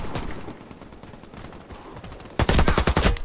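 A video-game AK rifle unloading a sustained rapid burst, loud and close, after a stretch of quieter scattered shots and clatter.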